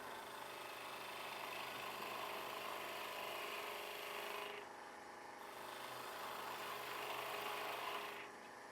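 Wood spins on a lathe while a skew chisel slices it, giving a steady whirring motor hum with a brighter hissing cut that drops away briefly twice, near and fairly quiet, no talking.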